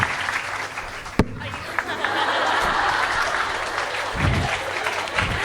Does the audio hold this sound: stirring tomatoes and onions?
no